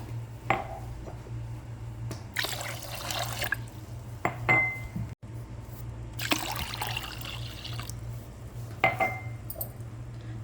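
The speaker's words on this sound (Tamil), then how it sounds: "4 கப் அளவுக்கு நம்ம தண்ணி ஊற்றிக்கணும்" Water pours and splashes into a pot of rice and lentils for ven pongal in two long gushes, with light clinks of a vessel and utensils between them over a steady low hum.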